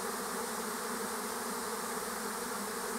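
A swarm of honeybees settling onto a thick tree branch fills the air with a dense, continuous buzzing hum, steady and even throughout, with no voices.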